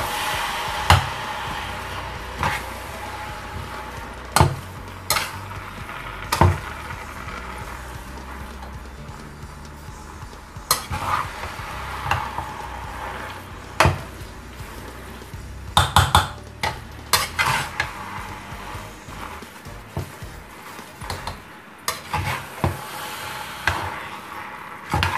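Minced meat browns in a pan for a large batch of cottage pie, with repeated scraping and knocking stirring strokes over a soft sizzle, irregular and close, the spoon hitting the pan in loud bursts.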